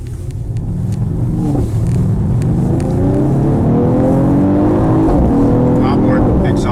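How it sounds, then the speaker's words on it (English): A 2019 Mercedes-AMG GT 53 in Sport Plus mode drones loudly from the cabin, its exhaust rising steadily in pitch as the car accelerates, with an engine tone that builds across the whole stretch. "Already a little bit of exhaust feedback."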